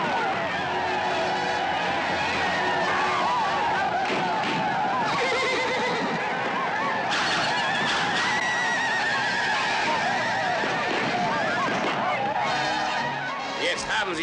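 Horses neigh and whinny repeatedly amid a dense, loud mix of movement and voices, with riders pressing on to ride further in a dramatized scene from Native American history.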